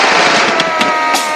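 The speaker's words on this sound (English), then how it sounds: "Gunshots everywhere." Gunshots ring out in a tense scene of a police standoff, several sharp cracks spaced irregularly over a dense, loud backdrop of music.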